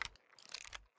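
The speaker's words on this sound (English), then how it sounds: "Planting the bomb." Bomb planting in Call of Duty: Vanguard, a quick run of faint mechanical clicks and ratcheting rattles, close and brief, with no talk.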